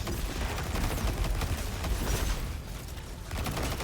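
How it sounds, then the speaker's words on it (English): Dense gunfire in Destiny 2 using a Strand build, a continuous barrage of rapid shots and impacts layered together at high volume without a break, no voice over it. "And now we're going to shoot this."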